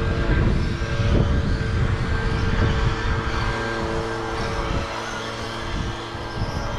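A BMT 011 RC car engine, shod with foam tyres, runs steadily nearby with a constant buzzing drone and slight rises and dips in pitch, with no talk over it.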